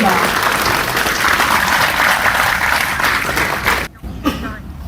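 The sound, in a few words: audience applause for lecturer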